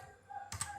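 A computer keyboard gives a couple of faint, quick keystrokes while someone enters a spreadsheet formula. The clicks sound soft and close against a quiet room.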